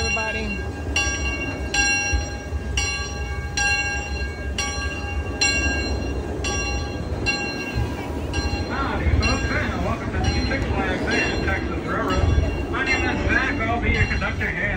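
A train ride at Six Flags Over Texas during Fright Fest pulls away, its ringing bell clanging in a steady repeated rhythm over rumbling wheels and a lively crowd, with people talking nearby.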